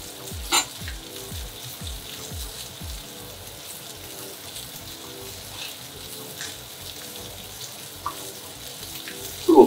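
Butter and garlic sizzling in a stovetop pan while steak cooks, a steady moderate frying hiss with a few soft clatters and a sharper knock near the end.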